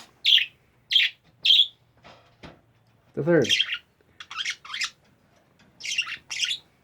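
Pet budgies give sharp, bright chirps in a quick run of three, then a burst of squawks and chatter, up close and loud; a person speaks briefly between the calls.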